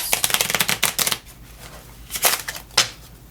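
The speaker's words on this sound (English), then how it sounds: "we're going to shuffle the cards" Rapid riffling bursts of a card deck being shuffled, two quick runs separated by a short pause, close and crisp.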